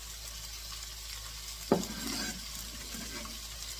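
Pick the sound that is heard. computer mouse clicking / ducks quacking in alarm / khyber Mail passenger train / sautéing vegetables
sautéing vegetables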